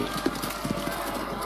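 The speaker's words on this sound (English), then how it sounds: "Meve spurred her horse. It neighed and reared, and then the twain leapt into the fray." Horse hooves clip-clopping at a run in the Thronebreaker video game, a short burst of rapid thuds over a constant background bed of game sound.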